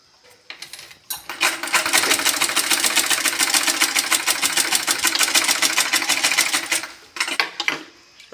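Sewing machine stitching fabric in a steady rapid run of needle strokes for about six seconds, close and clear, with brief starts and stops before and after.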